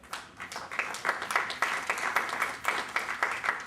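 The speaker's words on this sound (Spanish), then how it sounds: "Un fuerte aplauso para él, por favor." Audience applause at a business course session on corporate social responsibility, a steady burst of many hands clapping in a room that stays fairly loud and dense throughout.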